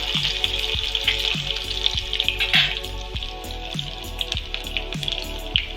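Cumin and four or five lightly crushed garlic cloves frying in generous oil in a pan, a steady close sizzle with a rhythmic series of spoon taps and scrapes roughly every half second, no talk.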